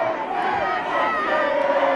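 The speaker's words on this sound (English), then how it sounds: "the crowd is really, really going into it" A fight night crowd roars and cheers during a boxing bout, a continuous loud wall of shouting voices that swells slightly and stays intense throughout.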